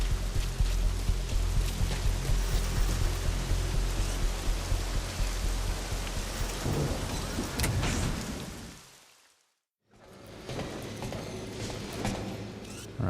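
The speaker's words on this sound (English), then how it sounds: "like it's started to rain" Rain falls at Mother Base in Metal Gear Solid V, a dense, steady wash with heavier patter and clatter, broken by a brief near-silent gap before the downpour resumes.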